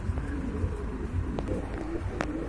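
Lahori pigeons kept for sale, soft repeated cooing close by over a low murmuring background, with a few faint higher chirps.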